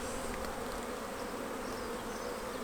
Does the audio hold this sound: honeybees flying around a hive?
yes